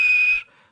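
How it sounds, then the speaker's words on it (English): A steam engine whistle gives one short, clear, high blast of under half a second, then quickly fades away. "And he blew his whistle."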